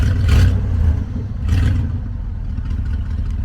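A 1971 International Travelall engine running with the choke off, loud and close, revving in two surges before settling into a rough, steady rumble.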